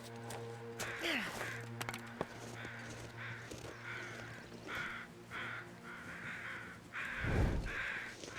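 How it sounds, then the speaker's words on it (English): Crows cawing in the video game The Long Dark, a series of repeated harsh caws in a steady rhythm over a constant low hum, with a deeper rustling burst near the end. "Sounds like 2 sets of crows."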